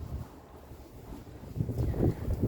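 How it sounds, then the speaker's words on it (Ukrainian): Gusty wind rumbles and buffets nearby in a sunny spring garden, a low rushing noise that swells stronger toward the end. "Зараз вітер дує"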